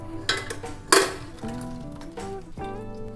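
Blended tomato soup is strained through a sieve over a pot, with sharp metallic clinks and scrapes of utensil against metal, a few distinct knocks over a quiet background, close and without talk.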